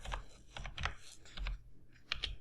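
Quiet typing on a computer keyboard: scattered soft key clicks in short irregular bursts, close by, with no talking.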